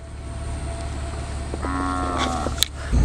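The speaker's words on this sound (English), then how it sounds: "we've got a few little cows in the middle of the road" Cattle standing in a country road give a low, drawn-out moo lasting about a second. It is heard over the steady hum and road noise inside a moving vehicle.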